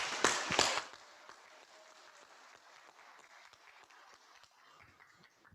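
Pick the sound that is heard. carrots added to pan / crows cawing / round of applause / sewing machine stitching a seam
round of applause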